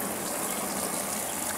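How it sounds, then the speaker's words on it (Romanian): Water gushes steadily into a paddling pool, a dense continuous splashing rush, close and fairly loud with no break and no talk. "Umple piscina cu apă, acolo vine apă rece"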